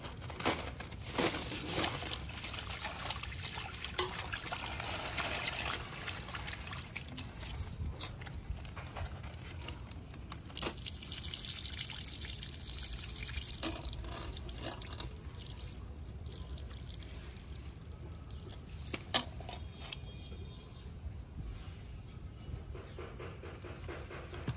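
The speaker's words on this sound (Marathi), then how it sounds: "आपण आता त्याच्यामध्ये पोहे स्वच्छ धुवून घ्यायचे।" Poha (flattened rice) rinsed in a bowl of water by hand: soft sloshing, swishing and crinkly grain rustle with scattered drips and splashes, continuous and close but fairly quiet.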